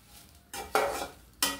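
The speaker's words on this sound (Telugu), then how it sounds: "సమానంగా ఆయిల్ వేసి చక్కగా చెయ్యి వదలకుండా వేగించేసుకోవాలి." Curry leaves frying in oil are stirred with a utensil, giving close, crackling sizzle bursts that start abruptly and come in two scraping strokes, with no talking.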